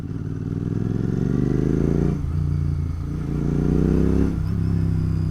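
A Royal Enfield GT 650 motorcycle on a night ride gives a loud, steady engine drone that swells briefly before settling back, with no talk over it.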